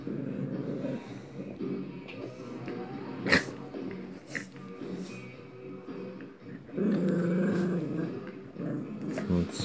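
A small toy terrier growls in bursts while playing with a large toy, a steady low rumble with short sharp yaps and snorts, close to the microphone, no talking.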